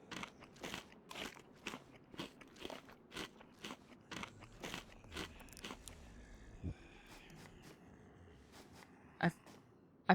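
Crunchy tuna being eaten by a character in DayZ, the video game: rhythmic close crunches and bites for several seconds that thin out into scattered clicks and scrapes near the end.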